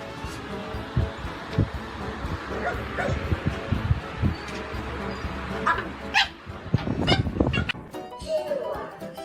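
A puppy gives several short yips, whimpers and small barks in bursts across the stretch, close by, with people's voices chattering around it.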